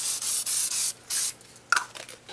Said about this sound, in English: This is an aerosol, and you don't want to breathe this stuff in, but we're going to go ahead and give it a couple hits of this.